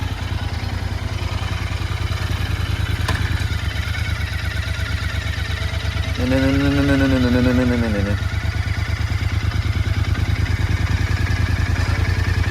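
A motorcycle engine, an Interceptor 650 or Duke 200, idles close by with a steady throbbing rumble, and a short voice-like tone rises and falls midway.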